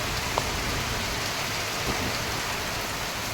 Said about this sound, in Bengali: খুব জোরে কিন্তু এখন বাতাসও দিচ্ছে আর বৃষ্টিও খুব হচ্ছে